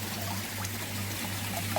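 Water pours steadily through a pond chlorinator into a garden waterfall during a water change, a soft continuous trickling stream over a low hum, faint and alone.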